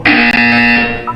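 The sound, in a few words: buzzer in video game Portal 2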